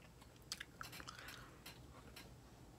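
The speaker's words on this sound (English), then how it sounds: "I need to stop chewing my gum like that." Quiet chewing of gum during a charcoal peel-off mask routine, heard as soft, wet, irregular smacks and clicks close to the mouth with no talking.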